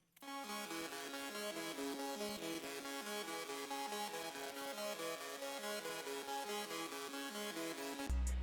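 Bright, rich Serum synth lead for a trap beat, playing a steady repeating melodic pattern of sustained harmonic notes, loud and continuous for about eight seconds with no voices.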